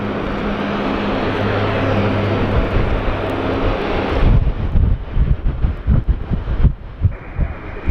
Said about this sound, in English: Qantas link taking off if I can get it in focus